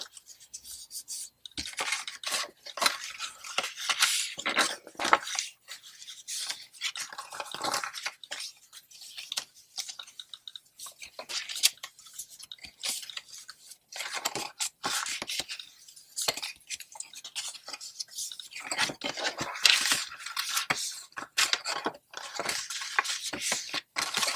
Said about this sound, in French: Je marque tous mes plis.